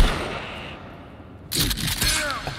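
Shotgun blasts in the Sons Of The Forest video game, a sharp burst of buckshot fire after a lull, loud and close with ringing echo and rapid follow-up impacts.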